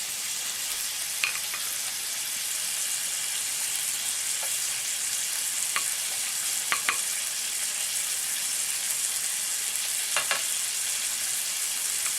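Rib eye steaks sizzle in butter in a pan, a steady bright frying hiss with occasional sharp pops and spatters, close and continuous with no talking.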